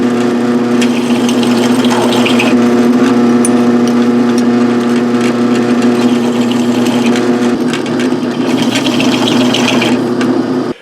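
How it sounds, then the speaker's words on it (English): A power drill fitted with a chamfer bit smooths the edges of drilled holes for a homemade throw line reel, giving a steady, loud motor whine with rubbing, grinding texture that holds for about eleven seconds. "I've got a chamfer bit in here that I'm going to use to chamfer these edges over"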